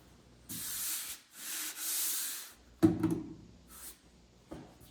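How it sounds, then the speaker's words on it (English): A 1957 Chevy dashboard in a body shop gets sanded by hand in a few close, hissing rubbing strokes, broken up by a thud and clunking handling noises, with no talking. "Trying to get the dash all sanded."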